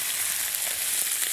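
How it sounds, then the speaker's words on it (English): Marinated spicy chilli chicken pieces sizzle and fry in hot oil, a steady, dense crackling hiss close up, with no voices over it. "there's the sizzle"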